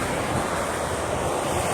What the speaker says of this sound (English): this place is very windy and very dusty